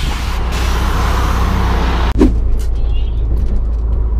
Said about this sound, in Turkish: sonunda geldi beklenen araba.